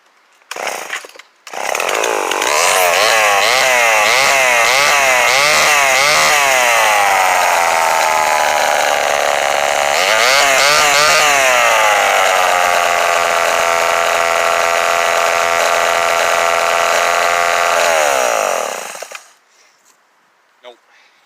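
A Homelite XL12 chainsaw with a major air leak is cranked, catches and runs loud and close for about sixteen seconds, its revs rising and falling before it cuts out.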